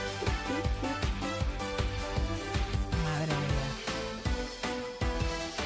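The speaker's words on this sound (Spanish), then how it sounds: "Esta es la música de periodismo de investigación que tenemos." A bouncy, upbeat jingle plays for an investigative journalism segment on a talk show, with punchy repeated beats and a bright melodic line running loud and continuous for several seconds.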